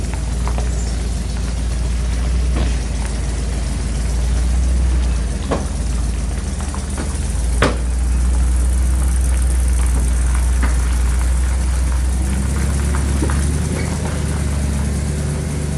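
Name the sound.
Belarus 3045 tractor engine running and driving away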